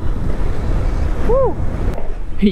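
Cold wind buffets a motorcyclist's open helmet visor on a chilly ride toward Kabbaladurga fort hill, a steady, loud roaring rush that runs the whole time with a brief whistling tone partway through.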